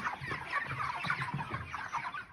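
Broiler chickens in a poultry shed make close, continuous clucking, with overlapping bird calls in steady bursts.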